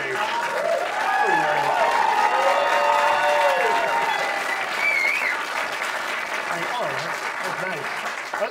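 A comedy club crowd at a North Hollywood stand-up show applauds steadily while whoops, cheers and a whistle rise above the clapping, and voices call out over the din.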